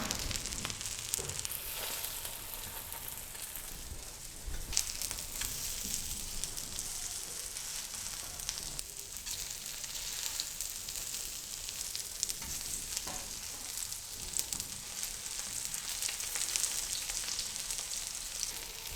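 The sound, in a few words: breadcrumb-coated tikkis sizzling as they fry on a tawa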